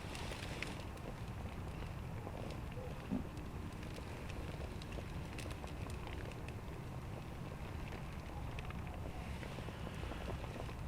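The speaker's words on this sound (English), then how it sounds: "this is so loud when the wind is beating on it that it's waking me up." Strong plains wind buffets a tarp shelter through the night, producing a constant low roar and rustle with small flutters, fairly faint and steady throughout.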